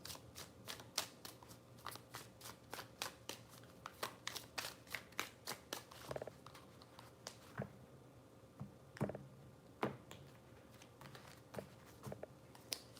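Tarot cards are shuffled in three passes, giving rapid riffling flutters and soft slaps that repeat in quick bursts, close and fairly quiet, with no voices.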